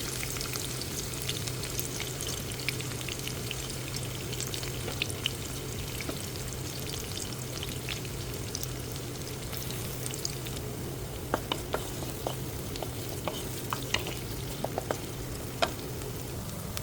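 Onions frying in hot spiced oil for Ethiopian-style cabbage rolls, a steady close crackling sizzle with scattered sharp pops and spatters, no talk.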